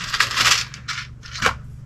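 A few 1 5/8 finishing nails dropped into small drilled holes in a wooden box, giving several light metallic clinks and rattles in quick succession, close and fairly soft.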